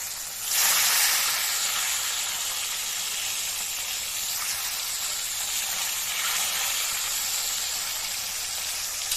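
Katla fish pieces frying in hot oil in a home kitchen, a steady broad sizzling hiss that swells sharply near the start and holds fairly loud and even throughout, with no talking.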